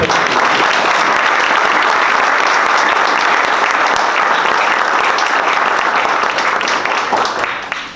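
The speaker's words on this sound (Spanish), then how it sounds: "para quien pido un gran aplauso" At a port industry event, an audience gives a long, loud, dense round of applause that stays full and steady before easing slightly at the end.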